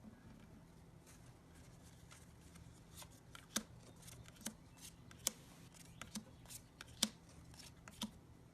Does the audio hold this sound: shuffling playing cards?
yes